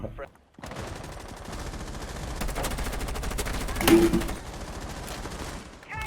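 Rapid automatic gunfire from a first-person shooter video game, dense bursts of shots running through most of the span and swelling to a loud peak near the end, with a player talking briefly over it.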